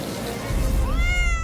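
A Minecraft cat gives a couple of rising, tonal meows close up over a low game-background rumble.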